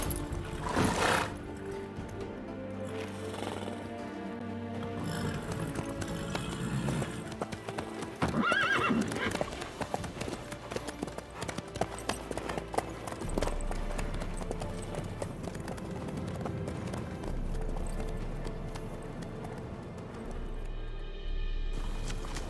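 Horse hooves clip-clop steadily in The Witcher 3 video game, a continuous rhythmic trot mixed with a whinny, music and ambient game sound throughout.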